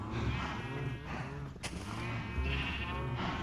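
Several sheep bleat in Minecraft, overlapping wavering cries that repeat loudly and close over a busy layered background, with a sharp burst cutting through midway.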